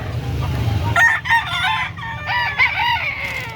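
Gamefowl roosters at a market in Carbon, Cebu crow in several loud, close calls, one after another, over a low background murmur.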